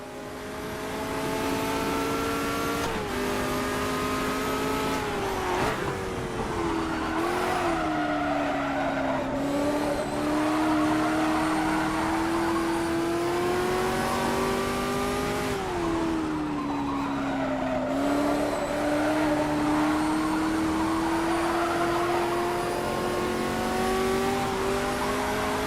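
Race cars in the Automobilista racing video game after a spin and a blown engine under caution, with a steady loud engine drone whose pitch rises and falls through gear changes, plus tire squeal and skidding throughout.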